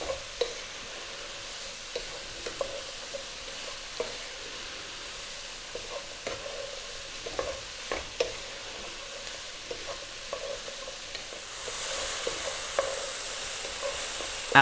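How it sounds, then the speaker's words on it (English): Spices are stirred in a hot pan for an Indian-spiced vegetable soup, giving a soft, steady sizzle with scattered scrapes and clicks of the spoon, and the frying grows louder near the end. "stirring all the time now because we don't want our spices to burn"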